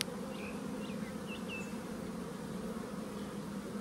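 Honey bees buzz around an open hive while nucs are made, a dense steady hum with a few individual bees zipping close past, fairly faint and with no talking.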